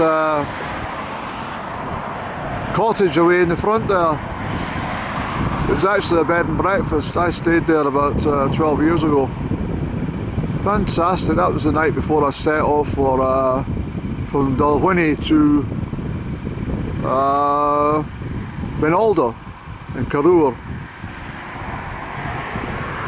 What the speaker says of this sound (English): It's such a noisy place with the traffic.